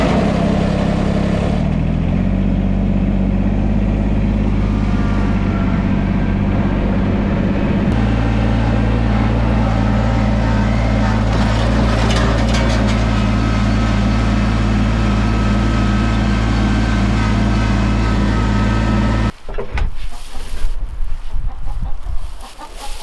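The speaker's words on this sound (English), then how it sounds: "I'm going to use the tractor for the upper chicken coop" A homestead tractor runs near the upper chicken coop with a steady, loud, droning engine hum and chickens clucking over it, until the engine stops abruptly near the end.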